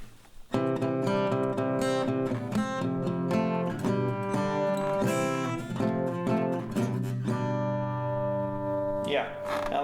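Acoustic guitar plays a song at full tempo, with single notes and full strummed chords in a steady pattern for about ten seconds, fairly quiet and close.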